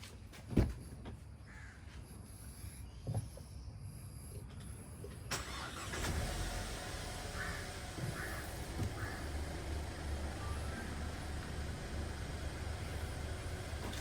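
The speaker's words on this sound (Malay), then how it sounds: "Jom kita start engine lah." A car engine starts partway through and then idles steadily in the foreground, with crows cawing outdoors before and over the running engine.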